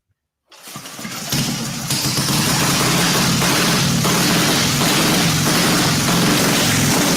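A warm vintage motorcycle engine with manual spark advance and decompressor kicking into life after a short start, then running steadily at a loud, close, rough idle without pause.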